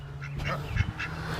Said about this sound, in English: Let's check out the ducks first.